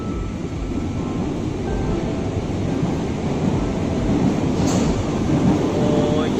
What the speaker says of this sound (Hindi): तो ये आ गई है ट्रेन, आगे निकलेंगे